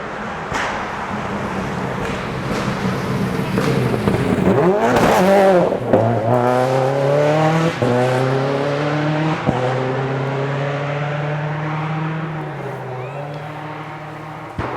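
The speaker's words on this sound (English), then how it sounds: "I think Leo's car is the loudest one out here" A bright orange and black rally race car's engine roars along a stage, rising to a loud pass with a sweeping pitch shift, then settling into a sustained drone that slowly fades, with a voice talking over it.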